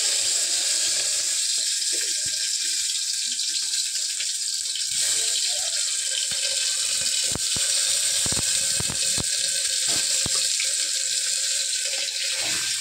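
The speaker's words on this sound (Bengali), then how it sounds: "আর এদিকে আমার তেলটাও গরম হয়ে গেছে, তো আমি এক এক করে এবার আলুগুলো দিয়ে দিচ্ছি।" Potatoes go one by one into hot cooking oil to fry, giving a steady, bright sizzle throughout with scattered sharp crackles and pops, no voices.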